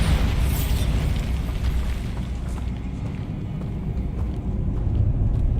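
Bombarda spell blasts in the Hogwarts Legacy video game, a heavy rumbling boom that hits at once and rolls on as a sustained low roar and debris wash, loud and close, slowly fading.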